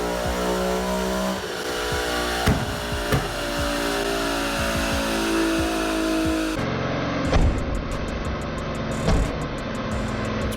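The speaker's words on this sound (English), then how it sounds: "I'm not really used to my car popping loud" A tuned Nissan 370Z engine idles and revs with a rough, throaty exhaust note, punctuated by several loud, sharp pops and crackles as the exhaust shoots flames.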